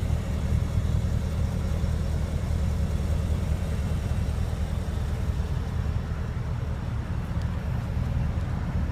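A 2014 Porsche Cayenne GTS with quad sport exhaust and dual sound mode runs steadily, a low continuous engine rumble holding even and close for the whole stretch, with no talk over it.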